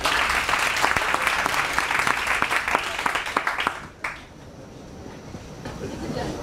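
Conference audience applauding loudly, dense sustained clapping from a crowd that cuts off abruptly, leaving quiet room tone.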